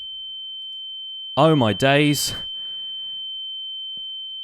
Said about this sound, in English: Oh, my ears are ringing.